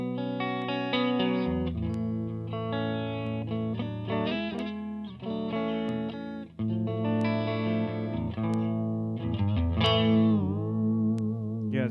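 An electric guitar played through a Lil King amp with reverb set at a modest level, a steady run of strummed chords and sustained notes, loud and close, with the reverb tail ringing out between phrases.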